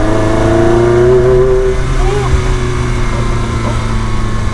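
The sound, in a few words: Ferrari 360 Spider gated manual engine revving while driving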